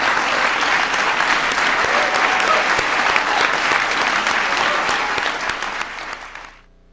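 An audience gives a big round of applause honoring 2015 Presidential Medal of Freedom winners at a Minoru Yasui Day event, sustained, dense clapping that holds steady for several seconds before fading out at the end.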